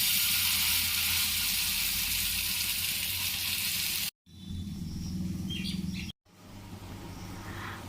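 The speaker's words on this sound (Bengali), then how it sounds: "দু পিঠটা লাল করে ভেজে নিয়েছি" Puffed rice batter pancakes frying in hot oil on a griddle over low heat, a steady loud sizzle and crackle that cuts out briefly twice, then resumes slightly softer.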